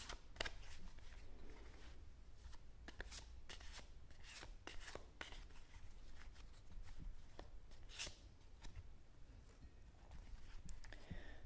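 An Osho Zen Tarot card deck being shuffled close up in a quiet ASMR setting, with repeated crisp riffling and soft rubbing of cards in irregular bursts throughout, no talking.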